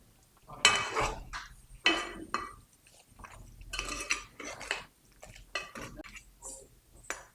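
A spoon scrapes and clinks against a pot of mutton curry as coriander powder and garam masala are stirred in, giving irregular metallic knocks and scrapes close by.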